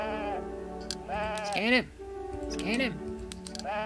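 Sheep bleating in the video game Woven, a world of metal and fabric: several wavering bleats with strong harmonics, one after another over game music and a character's speech.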